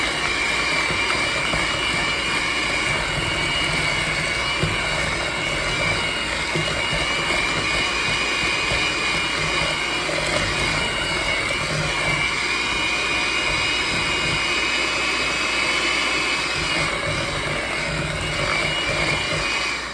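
An electric mixer whirs steadily while mixing fruit pizza dough, a continuous motorized drone with a prominent high whine that runs unbroken and close by.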